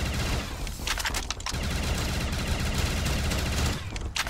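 Rapid, continuous gunfire from a custom modded zombies map in Black Ops 3 rattles without pause in a dense, loud burst of automatic shots.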